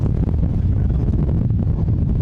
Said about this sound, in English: bit windy down here at the ground.